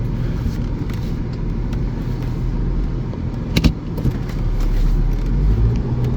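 A car drives along with a steady low engine and road rumble, close and fairly loud, and a brief rattling click partway through, with no talk.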